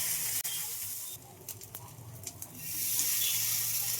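Lentil and jute leaf fritters frying in mustard oil, a steady broad sizzle that swells loudly at the start and again at the end, with faint clinks of utensils in the middle and no talking.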